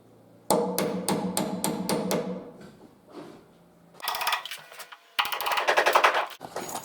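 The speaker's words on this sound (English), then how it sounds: "I can use this as a drift to punch the dowel below the surface" A 10mm steel bar drift is hammered to punch dowels below the surface during staircase fitting: a fast run of seven sharp, close metallic blows, then scattered taps and two denser clusters of rapid strikes.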